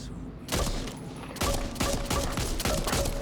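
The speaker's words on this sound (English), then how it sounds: "Got a pistol and a machine gun." Machine gun fire from the video game Back 4 Blood comes in loud, dense bursts, rapid rattling shots that pause briefly and then resume.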